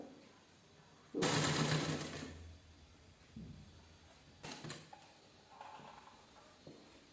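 A sewing machine stitches a folded strip along a blouse neckline in a loud burst of about a second, followed by shorter, quieter runs and handling clicks.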